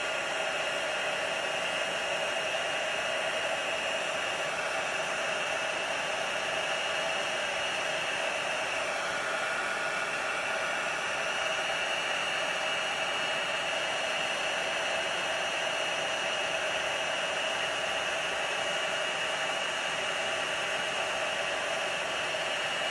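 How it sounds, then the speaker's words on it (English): Heat tool blowing hot air to melt a foam adhesive sheet for a paper card, a steady close whooshing hiss that holds unchanged for over twenty seconds with no other sounds. "Trying to keep my fingers back because the heat tool gets very hot."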